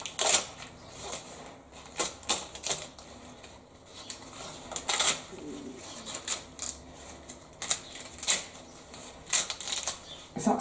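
Scissors snip repeatedly through rolled-up material inside a bag, making a series of short crisp clicks and rustles spaced irregularly, close and fairly quiet, with no voices.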